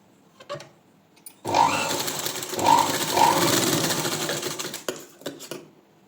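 A sewing machine with a normal presser foot runs in one steady stitching burst of a few seconds while sewing thread piping on cloth, close and fairly loud, followed by a few soft handling clicks.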